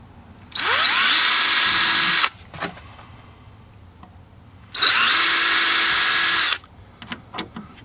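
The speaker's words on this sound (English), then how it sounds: "So I'll drill out all 4 of those holes" A power drill whirs through plastic twice in two bursts of about two seconds each, loud and close, with small clicks and handling noises between.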